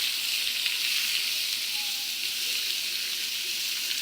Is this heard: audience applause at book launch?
no